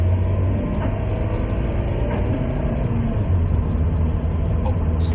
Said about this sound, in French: je vais me mettre en deuxième et j'accélère à fond.